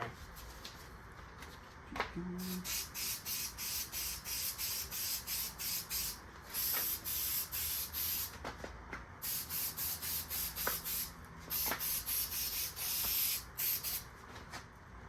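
Contact adhesive sprays in repeated short hissing bursts onto a cracked car dashboard, working from the middle outward. The bursts are close and fairly quiet, separated by brief pauses, with no talking.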